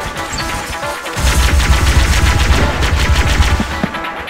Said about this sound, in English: Unlike the T25 DEP, the T25 DER fires in fully automatic.